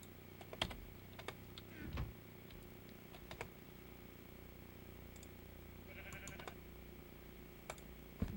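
Sheep bleating in a farming video game, short game-generated bleats rising above soft keyboard typing and small clicks, with one clearer bleat cluster around the middle and no talk.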